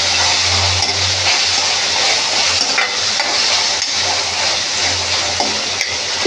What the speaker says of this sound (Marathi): ते चांगलं परतून घ्यायचं कांदा आणि टोमॅटो